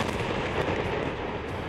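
A bomb explosion dropped in Lebanon, heard as a loud, dense, sustained rumbling blast with crackling debris, continuous and without any voices.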